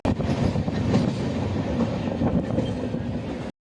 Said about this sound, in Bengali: ট্রেন এখন কিন্তু প্রবেশ করলো ভুবনেশ্বর